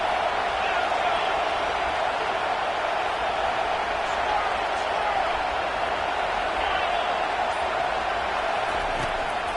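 A college football video game stadium crowd roars in a steady, dense wash of cheering, with a commentator talking over it throughout.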